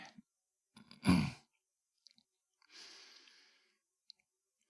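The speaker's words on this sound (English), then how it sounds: "it is definitely a type of deliberate breathing" Soft, close breaths come in staggered bursts: a short inhale, a stronger puff, then a long airy exhale, each separated by near silence in a quiet ASMR setting.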